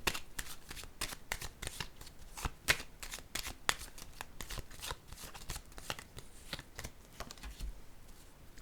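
Playing cards handled and laid down during a card reading, a close run of crisp rapid flicks and snaps like shuffling, steady and fairly quiet with no talk.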